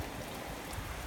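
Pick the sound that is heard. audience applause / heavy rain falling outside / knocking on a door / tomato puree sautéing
heavy rain falling outside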